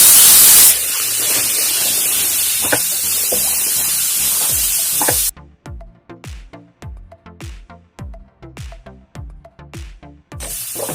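Tomatoes tipped into a hot pan for a restaurant-style vegetable kurma set off a loud, hissing burst of sizzle that settles after a few seconds into repeated scraping stirs with softer crackling beneath.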